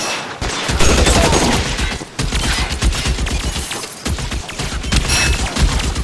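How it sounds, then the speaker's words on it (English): Sustained heavy gunfire from the L.A. Noire video game, a dense, loud, continuous barrage of shots and impacts filling the whole stretch with only brief dips. "Guns!"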